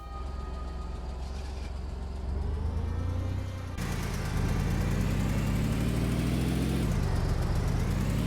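UAZ off-road vehicle engine in the Afterconflict video game starting and running, a loud low mechanical drone that shifts and rises in intensity partway through, with no speech.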